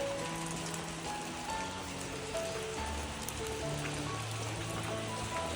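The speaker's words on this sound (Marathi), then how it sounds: "आज पाऊस सुरू झाला आहे" Steady rain of the first monsoon shower patters on surfaces in a village, a dense continuous hiss with scattered drips, soft and even throughout.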